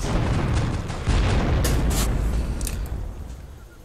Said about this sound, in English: Oh, it's a mine.